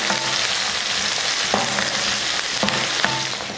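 Shallots, onion and about ten garlic cloves frying golden in oil in a pan, a steady close sizzle broken by a few clinking spatula stirs, with no one talking.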